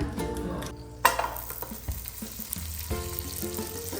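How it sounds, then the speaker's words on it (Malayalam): Butter and ghee sizzling in a pan as onions go in, a sudden loud hiss after a quieter start, then a steady crackle with light clinks of a utensil against the pan. "ഇപ്പോൾ രണ്ട് ക്യൂബ് ബട്ടറും ഒരു സ്പൂൺ നെയ്യും കൂടി ചേർത്തിട്ട് നമുക്ക് ഉള്ളിയൊക്കെ വഴിച്ചെടുക്കാം"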